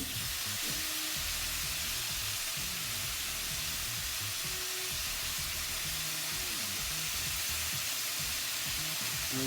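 Pork fajitas sizzle loudly in a hot pan as lime juice goes in, a dense continuous frying hiss with faint stirring scrapes and no talking.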